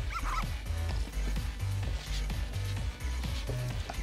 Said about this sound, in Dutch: Doet Karel gewoon blaf blaf en het gaat helemaal goed.